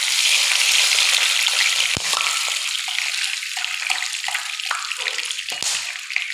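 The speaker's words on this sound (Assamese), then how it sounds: "এয়া মোৰ তেল গৰম হৈ গ'ল। এতিয়া মই ইয়াত তেজপাত দি দিম আৰু লং ইলাচি আৰু দাৰচেনি দি দিম।" Bay leaf, cloves, cardamom and cinnamon sizzle in hot oil, a loud, continuous crackling hiss that stays close and steady with a few sharp pops and no voices.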